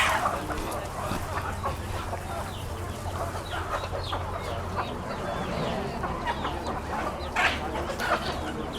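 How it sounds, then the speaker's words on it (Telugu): Chickens and ducks kept in the grounds of a Mahatma Gandhi temple in Chityala cluck and chatter continuously nearby, with scattered sharper calls and a faint murmur of people in the background. "ఇక్కడ చూడండి కోళ్ళు బాతులు అన్నీ"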